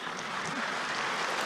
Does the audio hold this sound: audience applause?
yes